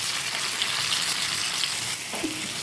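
Washed rice fries in mustard oil with whole garam masala, and it sizzles loudly and steadily in the pan. A soft stirring scrape comes near the end. No one speaks.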